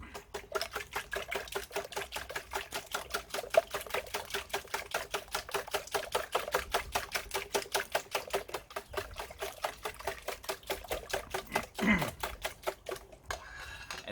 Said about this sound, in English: So now we just give this a good whisk up.